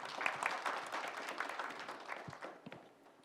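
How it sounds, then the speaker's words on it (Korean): Steady audience applause at a blockchain and digital asset industry policy forum, welcoming a professor to the podium; dense, even clapping from a seated crowd that tapers off toward the end. "박수 부탁드립니다"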